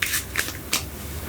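A deck of playing cards is shuffled close up in a quiet setting, with a few quick riffling bursts and soft papery flicks spread across a short moment.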